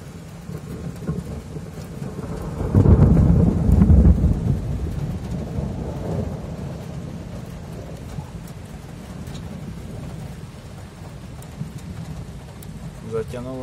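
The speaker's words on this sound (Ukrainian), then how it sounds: "Блискає, гримить." A summer thunderstorm over Lviv in August 2021: a heavy roll of thunder booms early on, then rain keeps falling with a steady hiss, with faint background sounds throughout.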